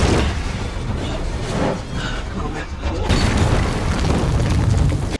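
Explosions blow up a group of vampires in a film, heard as loud, rumbling booming noise that dips briefly and then surges again in a heavy second blast.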